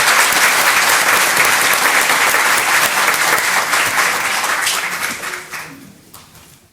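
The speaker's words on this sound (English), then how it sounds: "Let's give them another round of applause." Audience applause fills a school board meeting, a dense steady wash of many hands clapping at close range that holds strong for about five seconds, then thins and fades out.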